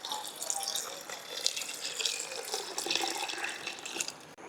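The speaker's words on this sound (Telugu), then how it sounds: "ఇప్పుడు ఈ పనసపొట్టులో సరిపడా నీళ్ళు పోసుకుంటున్నాను." Water pours steadily into a cooking pot holding chopped jackfruit, a continuous splashing, gurgling stream heard up close with no talking over it.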